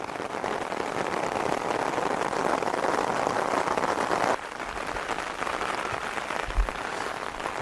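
Heavy rain pours steadily during a thunderstorm, a loud dense hiss over a yard with a stormwater channel, dropping slightly in level partway through, with no voices.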